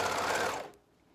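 A four-thread overlocker runs in one loud, dense burst as it sews along the edge of a tee seam, then stops abruptly, leaving near silence.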